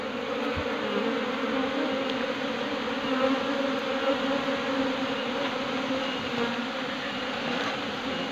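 Honey bees swarming around a hive box just after the honey has been taken, a dense, steady drone of many wings close by that holds without a break throughout.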